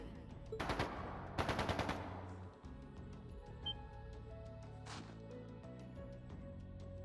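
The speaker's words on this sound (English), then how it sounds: "That didn't sound good. That sounded like gunfire." Two rapid bursts of automatic gunfire, then a single sharper shot a few seconds later, over a low game-like background hum, in The Legend of Heroes: Trails of Cold Steel II.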